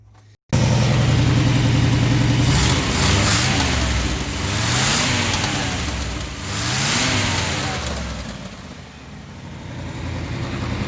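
A 1968 Ford F350 with a 360 V8 and four-speed manual fires up abruptly, then revs loudly up and down several times before settling into a rough, uneven idle.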